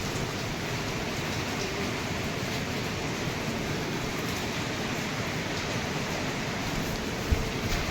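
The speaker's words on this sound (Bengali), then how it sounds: "প্রচণ্ড পরিমাণে বৃষ্টি হচ্ছে" Heavy rain pours steadily at night on the way to the Kedarnath temple, a dense, continuous hiss with no pauses and a single brief knock near the end.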